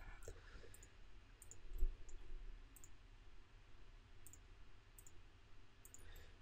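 Faint, sparse clicks spaced irregularly over a quiet hum, with one slightly louder tap near the start; no voices.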